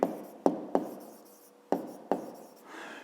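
A pen or chalk writes a maths solution in short, sharp strokes and taps, about five distinct marks spaced unevenly, close and fairly quiet.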